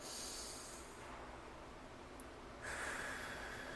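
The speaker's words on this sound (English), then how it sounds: "So even taking a breath with me right now" A person draws a long, deep breath, then after a short pause begins another airy inhale, both close and soft, with no speech.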